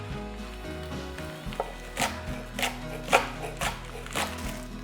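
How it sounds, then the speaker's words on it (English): Knife chopping onions on a cutting board while making homemade ramen, a run of sharp, fairly close taps in an irregular rhythm over a low hum, with no talking. "I'm going to chop up the rest of these onions now"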